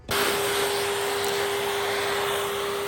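A vacuum cleaner starts up suddenly and runs at a steady loud whine with a constant tonal hum, cleaning drill debris off the roof of a Nissan NV200 micro campervan.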